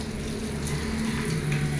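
Hand-held shower head spraying water in a bathroom, a steady close hiss that holds at an even level throughout.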